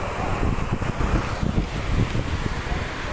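Strong wind gusting beside the Marikina River at flood alert level, a steady broadband rush with low buffeting rumbles against the microphone, loud and continuous throughout.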